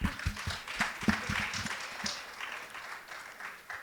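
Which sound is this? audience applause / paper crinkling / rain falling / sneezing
audience applause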